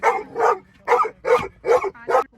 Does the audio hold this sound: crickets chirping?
no